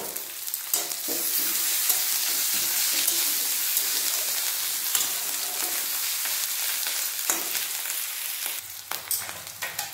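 Onions fry in a pan with grated ginger and green chillies, giving a constant loud sizzle with occasional stirring scrapes. The sizzle eases near the end.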